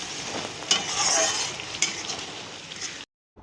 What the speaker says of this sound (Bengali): দিয়ে আমি আরও একবার ভালো করে মশলাটাকে কষিয়ে নেব।